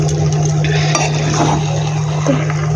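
Cooked dal being stirred in a pot with tarka spice mix on a gas stove: a steady, soft liquid stirring with faint scraping and light clinks of a spoon against the pot, mixed with a low simmering hiss.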